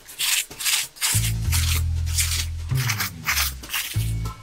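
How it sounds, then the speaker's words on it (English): A trowel scrapes excess mortar off a freshly laid brick wall during an indoor wood burning stove installation, giving repeated rough rasping strokes with a steady low hum underneath and no talking. "you just want to scrape, you know, the excess off and let it just kind of crumble down"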